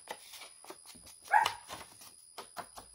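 A small dog barks and yips in short, quick bursts, fairly faint and somewhat distant indoors, with one louder yelp midway and scattered softer whimpers around it.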